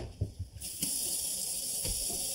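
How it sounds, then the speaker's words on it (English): A few soft knocks, then a steady rushing hiss of water draining away down a kitchen sink, continuous and fairly close. "The water's going down, down, down, and out of sight."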